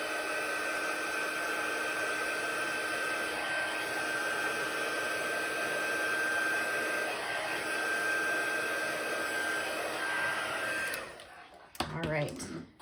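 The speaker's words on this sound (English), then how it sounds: "Now I'm going to give this a quick zap with my heat tool just to make sure it's fully dry" Craft heat tool blowing over a drying paper project, a steady loud whooshing roar held for about eleven seconds before it is switched off, followed by a few handling clatters.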